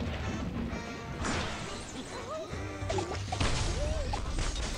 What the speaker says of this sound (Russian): Бомбанем сейчас вот здесь шарики.